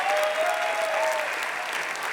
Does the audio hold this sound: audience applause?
yes